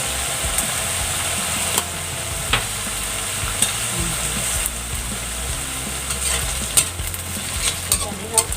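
A veggie egg omelette with vegetables cooks in a pan, a steady close sizzle and frying hiss broken by occasional scrapes and taps of a utensil.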